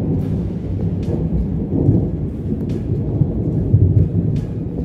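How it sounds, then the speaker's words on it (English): A severe thunderstorm over the Gold Coast in Queensland, Australia, with heavy rain hissing steadily and deep rolling thunder rumbling throughout, loud and close, with no voices. "after severe weather brought giant hail and heavy rainfall"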